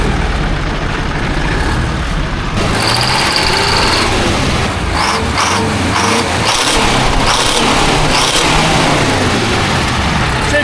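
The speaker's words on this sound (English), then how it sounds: "Can't beat that surging idle of these. Oh, this was straight piped right now. Definitely hitting all 8." A rare 1972 Diamond REO truck's straight-piped V8 engine, sitting unused for 20 years, idles loudly and close with an uneven, surging rumble, pulsing bursts rising partway through, no talk.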